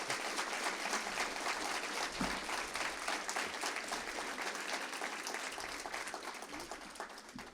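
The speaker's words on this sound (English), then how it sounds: "Give him a round of applause" An audience at a university Fall 2025 faculty and staff assembly claps for a new CFO, dense sustained applause that slowly fades toward the end.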